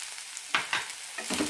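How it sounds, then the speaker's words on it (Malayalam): Grated coconut tossed with half-cooked carrots in a hot pan, soft sizzling with a few scraping stirs of a spatula, close and moderately loud, no voices. "തേങ്ങ നന്നായി ഒന്ന് ചൂടാക്കിയെടുക്കാം."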